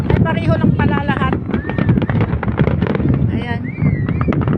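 Rapid crackling New Year fireworks bursts over the sea in Bahrain fill the air, with rising whistles and a steady murmur of crowd voices underneath.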